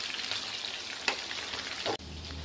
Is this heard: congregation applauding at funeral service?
no